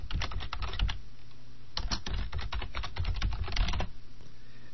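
Rapid typing on a computer keyboard, with two bursts of close, crisp key clicks separated by a short pause, heard alone without speech.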